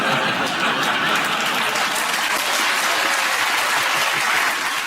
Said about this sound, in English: young people applauding.